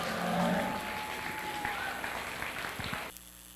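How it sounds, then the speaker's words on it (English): A crowd claps steadily at a 4-H dairy steer show, a dense, even patter of applause in an indoor arena that holds for about three seconds and then cuts off abruptly. "Let's give him a round of applause"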